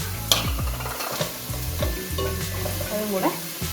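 Onions and crushed small shallots sautéing in a pan for chicken dum biryani, with steady frying sizzle and repeated scraping stirs of a spatula, close and moderately loud, no talking.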